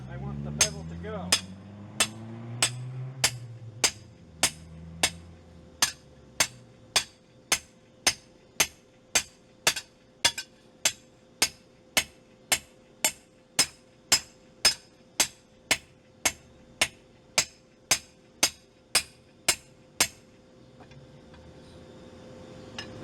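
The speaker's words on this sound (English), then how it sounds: "Notice I'm striking away towards the direction I want the bevel to go." A hammer strikes hot steel at a forge while shaping an axe bevel, a long run of sharp ringing blows in a steady, even rhythm, loud and close, ending in quiet.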